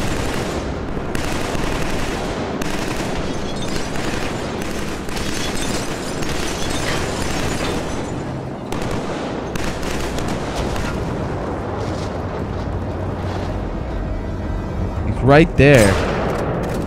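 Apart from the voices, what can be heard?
gunfire in the video game Killzone 3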